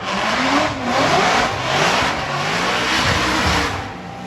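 A drift car with a Borla exhaust at a Formula Drift event in Long Beach revs hard in surging waves, loud and close, with crowd and track ambience around it.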